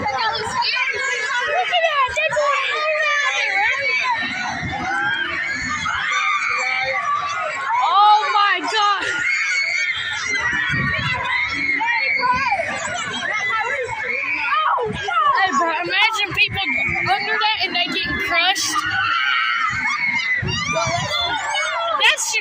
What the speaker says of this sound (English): They're screaming up there.